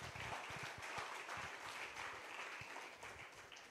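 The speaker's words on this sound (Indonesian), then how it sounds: "Tepuk tangan bagi Tuhan Yesus." A church congregation applauds during a sermon, a dense, steady patter of many hands clapping at once, fairly faint and heard from a distance across the room.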